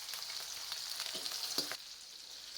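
Onions frying with fish in a pan, a steady close sizzle with scraping stir strokes throughout, no voices.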